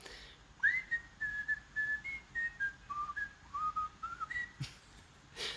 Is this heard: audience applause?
no